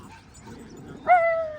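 Dog giving a single drawn-out whining yelp near water at a busy dog area, rising abruptly after a second of low background murmur and holding steady to the end.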